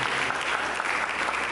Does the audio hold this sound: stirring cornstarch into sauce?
no